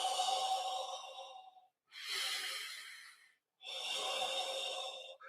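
Slow deep breathing, three long audible breaths in a row, each a drawn-out airy rush with a short pause between, close and clear with no talking.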